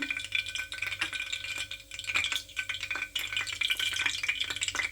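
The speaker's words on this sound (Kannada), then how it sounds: "ಆಯಿಲ್ ಹಾಕೊಳ್ಳೋಣ ಸಾಸಿವೆ" Mustard seeds hit hot oil for mango chutney pickle, giving a dense crackling and rattling sputter, close and fairly loud, with no talk.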